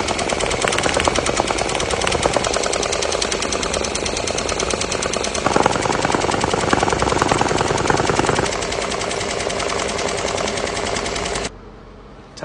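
An embroidery machine stitching a 3D puff design onto a clipped-in hat, a loud, steady, rapid mechanical clatter that runs continuously for about eleven seconds before cutting off.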